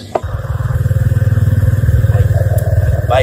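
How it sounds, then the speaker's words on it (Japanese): A motorcycle ridden along a rural road in Thailand, its engine thrumming in a steady, pulsing rhythm close and loud throughout, with light clatter and wind. "バイクで田舎道を走ってます"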